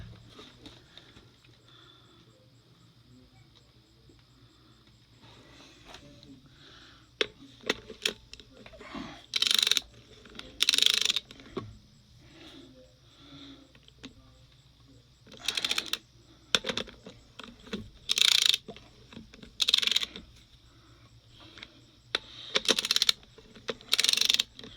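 A ratchet clicks in short bursts while torquing bolts on a Parker TG series hydraulic wheel motor, with quiet mechanical handling between the bursts at close range.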